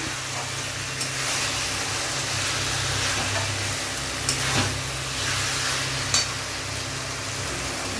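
Banana flower curry frying and being stirred in a pan, a steady close sizzle with faint scraping stirs and a few light clinks, no talking.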